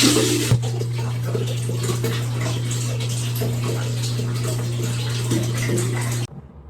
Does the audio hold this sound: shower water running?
yes